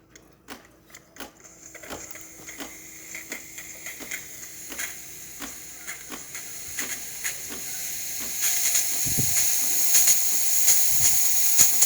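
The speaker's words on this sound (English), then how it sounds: "But I think it's going to activate steam this time." A steady mechanical hiss builds and grows louder toward the end, with faint rhythmic ticking and clicks underneath, like a steam wand blasting, from the steam wand of a DeLonghi Magnifica espresso machine.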